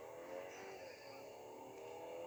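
A 2022 Mercedes C300 4MATIC launches hard off a brake-boost start, its engine roaring steadily and loudly, fairly close, with a rising surge through the short burst.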